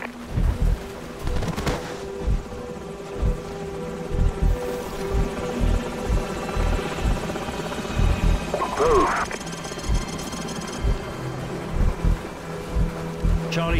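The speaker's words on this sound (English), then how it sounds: "Enemy helicopters." Enemy helicopters in Call of Duty 4 thrum steadily beneath game music and gunfire-like thumps, with a pulsing rotor drone throughout and a brief whistling sweep midway.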